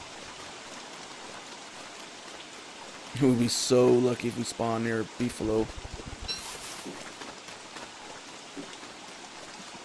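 Rain falls in Don't Starve as a constant soft hiss over grass fields, quiet and even throughout, while someone speaks over it for a few seconds in the middle.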